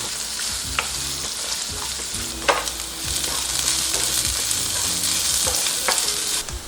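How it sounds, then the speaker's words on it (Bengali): Chopped onions and curry leaves fry steadily in a pan for a South Indian sambar, giving a continuous loud sizzle with occasional scrapes and taps of a stirring spoon, no voices. "পেঁয়াজগুলো সামান্য ব্রাউন হয়ে আসা পর্যন্ত ভালোভাবে ভেজে নেব"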